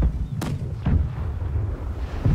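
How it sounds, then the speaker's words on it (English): Three deep ship cannon booms in the video game Blackwake go off one after another, heavy and rumbling, with a lower muffled boom trailing at the end. "Left side cannons fire."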